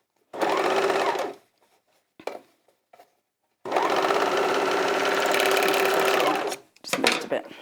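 An overlocker stitching a 3-thread overlock seam runs in two fast, whirring bursts, a short one and then a longer one of about three seconds, with brief clicks and handling noises between them, close and loud.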